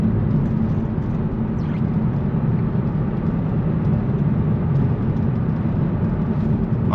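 Steady, loud car engine drone under way with a misfire after a Sea Foam fuel treatment, a continuous low rumble of road driving with no pauses and no talk.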